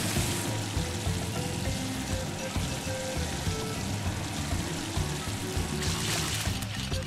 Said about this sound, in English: Now Marshall needs to reach them and use his water cannons to give them a bath.